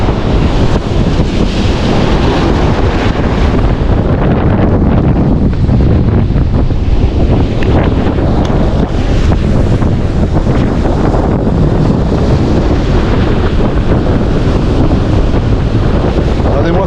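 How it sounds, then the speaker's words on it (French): Strong wind on a seawall roars and buffets the microphone nonstop during surf fishing, with a rough, constant rush that suggests surf or open water nearby. "Tellement il y a du vent."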